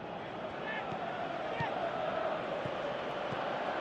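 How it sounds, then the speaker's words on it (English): A stadium crowd in a PS3 football video game roars steadily, a dense, unbroken wash of cheering and murmuring that holds at an even level throughout. "you can hear how the crowd are reacting to this too"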